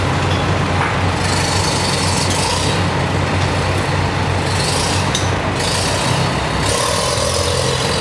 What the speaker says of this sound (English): Nice enclosed truck he's got, 38 rated horsepower it says.